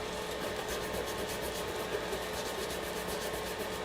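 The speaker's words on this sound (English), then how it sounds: "Now we're doing the polishing with the micro mesh, and this is the 1500, just a cloth sandpaper" Bass guitar frets get polished with 1500-grit micro mesh cloth sandpaper, giving a steady, close, continuous rubbing hiss with a faintly pulsing rhythm and no speech.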